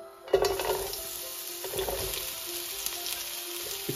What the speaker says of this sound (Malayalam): ഇതൊന്ന് ചൂടാവട്ടെ, നമുക്ക് പതിയെ സവാള ഇങ്ങോട്ട് ഇടാം